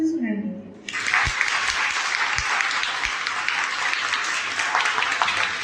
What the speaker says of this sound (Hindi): मुझे ताली जो है ना अच्छे से सुनाई देती है